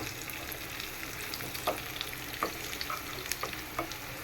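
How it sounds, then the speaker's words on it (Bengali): Garlic, onion, dried chili and cumin frying in hot oil to temper lentils. A steady, close sizzle runs throughout, and occasional light pops and spatters come through. No one speaks. "ডালটাকে আমি বাগার দিব রসুন পেঁয়াজ শুকনা মরিচ আর জিরা দিয়ে"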